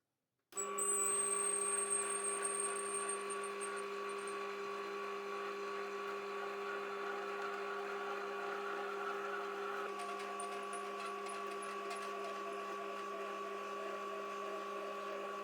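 A metal lathe cuts a thread in shallow passes on a shaft supported by a follower rest, giving a steady motor hum with tonal whine and faint cutting hiss, quiet and continuous without talk.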